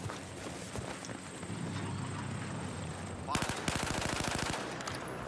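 Rapid automatic gunfire in the Battlefield 4 Naval Strike carrier assault game mode, a loud run of close, evenly spaced shots crackling over steady background game ambience.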